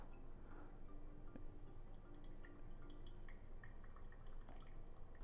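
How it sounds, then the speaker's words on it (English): Decaf coffee drips steadily through a pour-over filter at close range, small scattered patters of liquid falling into a vessel over a soft continuous background, with no voices. "Wait for the first pulse to drain through the coffee, never letting the bed get dry"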